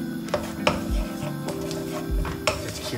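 Cashew nuts stirred in a pan for a vegan vegetable stir fry give a string of close utensil scrapes and clinks against the metal, with sharper knocks every second or so under a faint background hum.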